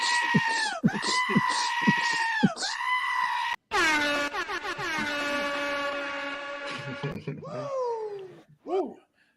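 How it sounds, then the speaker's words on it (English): Goats bleat in loud, wavering cries, one after another, with a long sustained bleat in the middle and shorter calls near the end. "let's bring out the goats"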